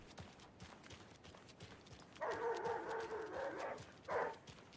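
A dog in the video game Alan Wake 2 gives two faint barks, the first held longer and the second brief, over quiet ambient game sound.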